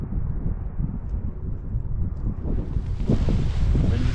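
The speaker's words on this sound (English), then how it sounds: "Listening to the wind." Wind blows outdoors in cold weather, a rough, buffeting rush that swells louder toward the end and sits close against the microphone.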